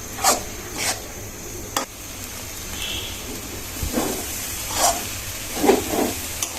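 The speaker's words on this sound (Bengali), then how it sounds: "এবার আমি ডালটা ভুনা করে ভেজে নিচ্ছি মশলার ভিতরে" Lentils fry in spices in a pan for dal chorchori, giving a soft continuous sizzle broken by a few sharp scraping strokes of stirring.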